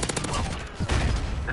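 Shotgun fire in a fast online shooter match, with loud dense bursts of overlapping gunfire and a heavy blast near the middle, with voice chat faintly underneath.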